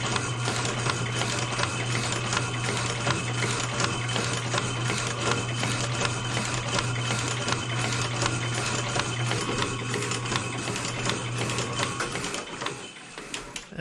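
A CNC machine runs a cut in a workshop with a steady, loud mechanical whir and a constant low hum, dense rapid ticking throughout, winding down near the end.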